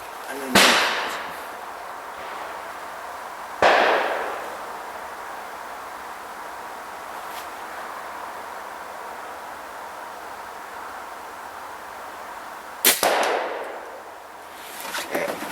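A BSA Lightning air rifle fires at an outdoor range target. Three or four sharp snaps are spaced unevenly, each trailing off briefly, over a steady, faint background hiss.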